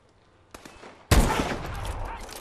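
A heavy weapon fires in Call of Duty: Advanced Warfare, with a faint shot and then a loud, booming blast that tails off into a rumbling roar of sustained gunfire.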